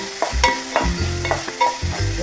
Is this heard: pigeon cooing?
no